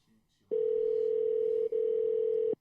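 Outgoing telephone call ringback tone: two steady, loud electronic tones in succession with a brief gap between them, heard alone after a faint murmur at the start.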